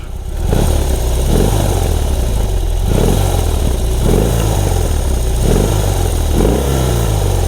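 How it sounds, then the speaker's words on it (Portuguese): A BMW R18 2024 motorcycle engine idles loudly up close and is revved repeatedly in rhythmic blips, each rev rising and falling back to a throbbing idle. "Vamos ouvir só este motor."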